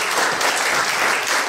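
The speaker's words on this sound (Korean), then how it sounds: "그분들께 박수 부탁드리겠습니다." Dense, even clapping from a room of former students honouring their old teachers at a high school 40th graduation anniversary gathering, continuous and brisk.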